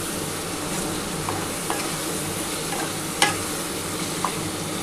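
Spice paste for a prawn, potato and cauliflower curry sizzles steadily in oil in a pan, with soft stirring scrapes and a few faint clicks of a utensil, close and continuous with no talking.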